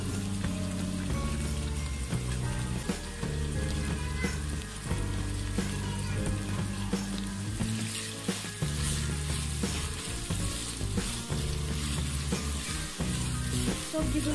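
Chopped green chillies, carrot and capsicum frying in oil for Thai egg noodles give a dense, continuous sizzle close up, with occasional stirring clicks and some faint music underneath.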